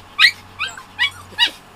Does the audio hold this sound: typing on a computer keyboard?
no